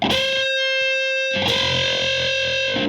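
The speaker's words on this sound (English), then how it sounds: "you're going to take this note and bend it to this note" Sustained notes on a 3-string cigar box guitar played through distortion, one held note cut off, then a new note struck and bent, loud and buzzing with no talk.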